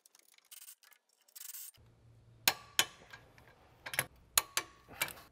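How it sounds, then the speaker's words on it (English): Brake caliper bolts on a Volvo XC60 being tightened and torqued, with a series of crisp metallic clicks and ratchet ticks in short irregular bursts close by, after some faint rubbing handling noise. "we're going to tighten them and torque them down to 110 newton meters."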